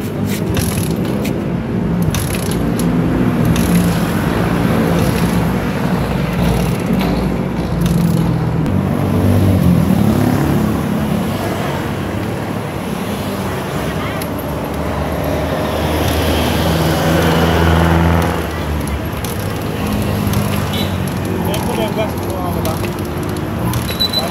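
A Suzuki Smash 115 motorcycle with low compression runs up close, a loud rough engine rumble that swells and eases over the whole stretch, with voices talking over it.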